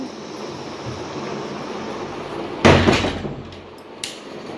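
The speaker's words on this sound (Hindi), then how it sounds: "दरवाजा क्यों बंद कर दिए?" A door is shut in a home, a loud close thud and rattle partway through over a background hum, followed by a smaller knock a second later.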